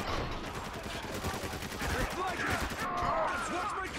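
Gunfire in the Spec Ops: The Line video game, a steady clatter of rapid shots and bursts under a muffled battle din, moderately loud and continuous.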